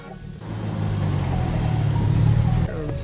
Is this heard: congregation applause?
no